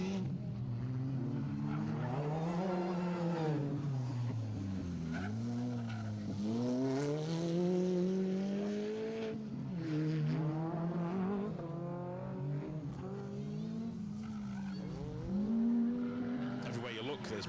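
Rally cars on the tarmac stages of a Protyre Circuit Rally Championship event, engines droning steadily with tyres squealing, heard beneath continuous commentary.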